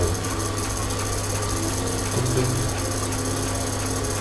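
Electric fan running right beside the microphone, a loud continuous whirring hum with a steady low drone and constant airy rush, no speech.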